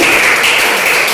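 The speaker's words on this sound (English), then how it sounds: "All of you, big clap." A crowd at a tournament finals prize-giving claps loudly and continuously, a dense, close wash of applause with no pauses.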